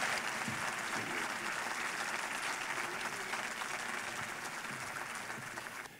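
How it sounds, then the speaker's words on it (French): Sustained audience applause at a closing plenary session of a conference, dense steady clapping from a large crowd filling the whole stretch, tapering slightly toward the end. "je vous demande d'applaudir"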